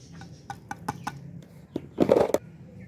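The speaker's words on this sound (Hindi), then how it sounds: "जी मुर्गियाँ भी खोल दी हैं" Loose chickens cluck in a home courtyard with a string of short, faint clucks and chirps. A louder burst of fowl calls follows near the end, with no talk over them.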